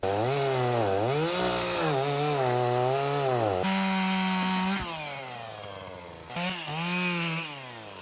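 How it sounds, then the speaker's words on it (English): A chainsaw roars loudly and close, revving up and down in pitch as it bites into a solid cedar log, then idles briefly before revving again. "We're gonna cut that off with the chainsaw"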